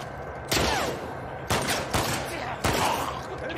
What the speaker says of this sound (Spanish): Si me estáis pegando tiros a mí.